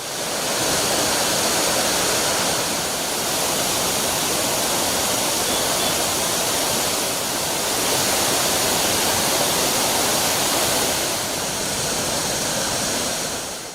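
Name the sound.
roaring waterfall near Ankola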